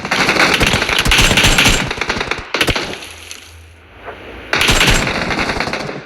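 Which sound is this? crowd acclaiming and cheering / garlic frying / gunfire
gunfire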